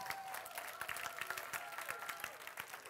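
A theatre audience at an improv match applauds the musician, with many hands clapping in a steady, dense burst that continues through the whole stretch, fairly close and lively.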